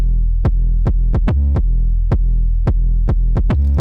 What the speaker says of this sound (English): It's a Duracell 808 using a light bit of saturation and this British Clean preset